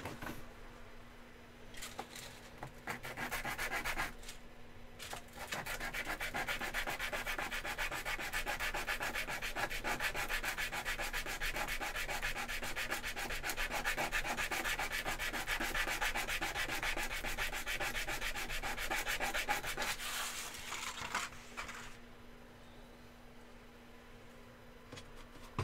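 Sandpaper is rubbed by hand over wood during a build, a long steady scratchy back-and-forth rasp that runs for about fifteen seconds after brief starts, close, with no talking.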